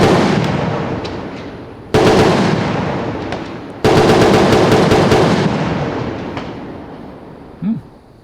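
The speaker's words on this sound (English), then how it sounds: "That sounded like a bump stock or something." Loud bursts of rapid gunfire, three long strings of fast shots, each starting sharply and trailing off with echo, outdoors.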